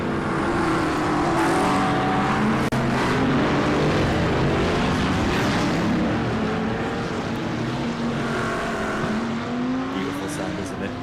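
A GT3 race car in the iRacing sim pulls away from the pit lane at Brands Hatch GP, its engine droning loud and continuous with rising and falling revs, other cars' engines overlapping throughout.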